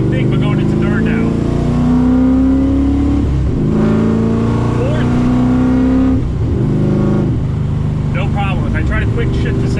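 Boosted LSA 6.0 car pulling away hard in first gear and revving up toward third, a loud continuous engine roar with rising pitch and short breaks at the shifts, people talking over it.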